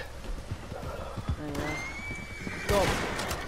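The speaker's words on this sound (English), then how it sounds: "my horse is like having a panic attack" A horse in a video game whinnies in panic late in the clip, its shrill neigh rising over a bed of hoofbeats and game noise, with a few faint, lower tones earlier on.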